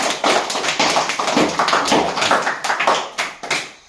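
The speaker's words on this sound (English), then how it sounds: "Clap for him." Students in a rural spoken-English tuition classroom burst into lively hand clapping, a dense, uneven patter of close claps with sharper accents that fades out after about four seconds.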